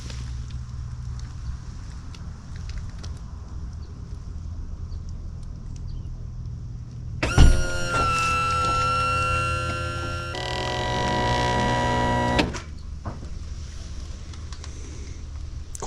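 Lippert hydraulic RV leveling legs retract with a sudden thump, then a loud, steady mechanical whine and hum lasting about five seconds, shifting pitch partway through before stopping abruptly against a quiet outdoor background.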